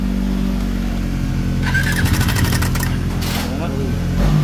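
A motorcycle engine runs steadily at idle with a loud, rough mechanical noise blamed on a faulty tensioner; the drone is close and continuous, with brief voices over it partway through.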